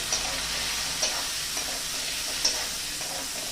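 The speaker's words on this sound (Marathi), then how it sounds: "मिरच्यांचे तुकडे आणि हे छान हलवून घेऊया" Chili pieces and peas are stirred through cabbage in a cooking pan, a soft continuous sizzle with a few light scrapes of the spoon, close and steady with no talk.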